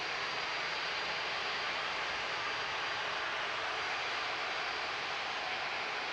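Jet2 jet airliners wait at Manchester Airport under a steady, broad engine roar that stays constant and fairly distant, with no clear change in pitch.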